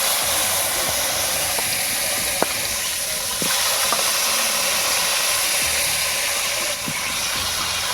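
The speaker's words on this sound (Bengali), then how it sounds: "এবারে মাংসগুলো ভেজে নেওয়া হবে" Pieces of chicken meat fry in a pan for biryani, giving a loud, steady, close sizzling hiss throughout with a few faint clicks and no talking.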